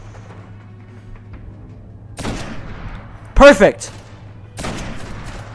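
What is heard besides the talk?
gunfire in the video game Destiny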